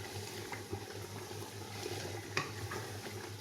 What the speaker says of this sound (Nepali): ग्रेभी पाक्दैछ हेर्नु